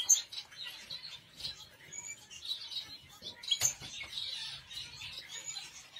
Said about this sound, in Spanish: os enseño estos pájaros